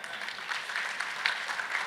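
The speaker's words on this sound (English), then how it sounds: "Big round of applause." Audience at a literature festival session in India gives a short stretch of quiet, fairly distant applause, with soft sharper claps poking through now and then.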